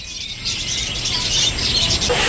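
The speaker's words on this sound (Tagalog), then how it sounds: "makinig sa huni ng mga ibon sa bird sanctuary" Birds sing and chirp in a resort bird sanctuary, a continuous chorus of high twittering calls over steady outdoor background noise, fairly loud and close, with no talking.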